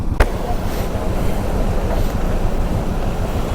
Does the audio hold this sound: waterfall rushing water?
yes